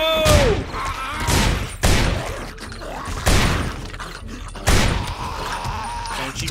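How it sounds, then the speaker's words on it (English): Gunfire in the zombie survival video game 7 Days to Die, four sharp loud shots spaced about a second and a half apart, each with a ringing tail, over ambient game noise. "Let's go ahead and take him out with the gun."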